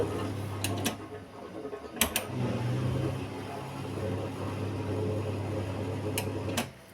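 A dishwasher finishing its intermediate rinse cycle, a steady low motor hum running throughout with a few brief clicks and knocks near the start and end, fairly close and alone.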